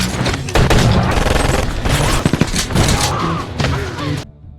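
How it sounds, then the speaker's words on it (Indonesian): Loud gunfire in a film shootout, with dense bursts of shots, booms and crashes layered over a dramatic score, close and continuous before cutting off abruptly. "sampai terjadilah baku tembak di sana"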